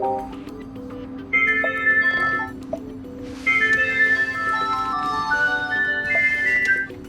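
Ringtone 3 from a Ford Kuga II (2012–2019) phone system: a cheerful electronic melody of rising and falling notes, played in two phrases with a short pause between, clear and close over a low steady hum.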